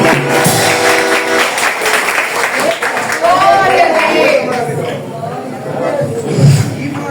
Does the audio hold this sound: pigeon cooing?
no